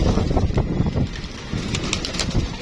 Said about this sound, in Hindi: ये देखो उड़ा हुआ कबूतर है